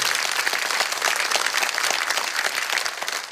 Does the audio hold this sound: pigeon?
no